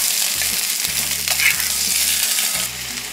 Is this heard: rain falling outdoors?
no